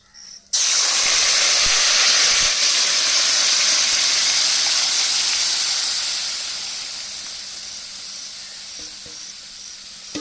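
Khichuri with chicken poured onto hot oil with cumin, dried chilli, bay leaf and whole garam masala, a sudden loud sizzling hiss that bursts in, holds steady, then slowly fades, close up with no talking.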